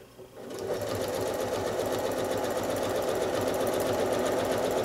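A sewing machine stitches a line through a house quilt block, a steady fast mechanical whir with rapid needle clatter that starts after a brief pause and runs loud and continuous to the end.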